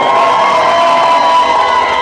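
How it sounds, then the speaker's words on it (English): A wedding reception crowd cheers and whoops loudly and steadily for about two seconds, with clapping blended into the continuous roar for the bride and groom. "A round of applause for our bride and groom"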